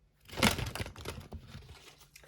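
Tarot cards being shuffled, a quick papery riffle of crisp flicks and crackles that bursts loudly near the start, then trails off into softer, scattered rustles.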